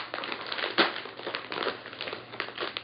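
A plastic mailer package holding a beauty subscription bag is torn open with close, crinkling rips and crackles in uneven bursts.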